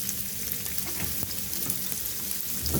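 Diced onions fry in oil left over from frying boiled eggs, giving a steady close sizzle with small crackles and a few clinks of stirring.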